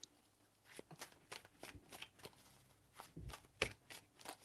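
Tarot cards are shuffled close by in a quiet room, giving soft repeated riffling and slapping bursts at an irregular rhythm with brief pauses and no speech.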